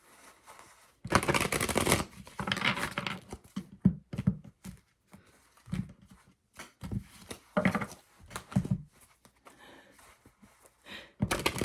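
Tarot cards being shuffled in repeated bursts of riffling and rustling, close and fairly loud, with short pauses between rounds.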